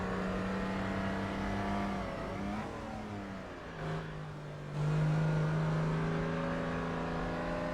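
Engine of a BMW 328 racing car revving, a steady tonal drone that dips, climbs and settles back to a higher pitch, loud and close, with no voices.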